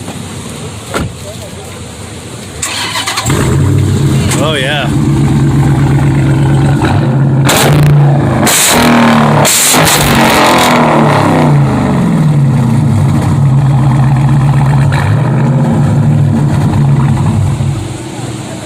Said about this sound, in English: to fire it up so we can hear that exhaust?